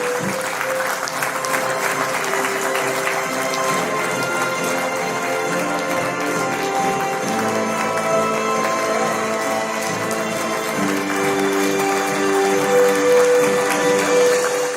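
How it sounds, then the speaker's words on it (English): Sustained crowd applause at a teachers' award ceremony, dense steady clapping filling the hall for the whole stretch, loud and continuous with a swell near the end. "Huge round of applause, ladies and gentlemen, to both of them"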